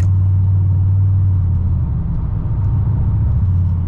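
Steady low engine hum and drone inside a 2006–2007 Chevrolet Monte Carlo SS with the LS4 V8 while cruising, continuous and fairly loud throughout, with no talking.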